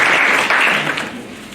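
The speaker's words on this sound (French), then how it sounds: "on acclame le Seigneur" A church congregation claps loudly to acclaim the Lord during a service, a dense, close burst of applause that tapers off slightly.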